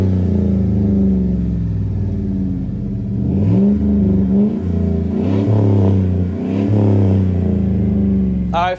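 A lifted 2010 Chevrolet Silverado with a 5.3L V8 and an aggressive aftermarket exhaust idles with a deep steady rumble, then revs up in several rising and falling bursts, loud and close.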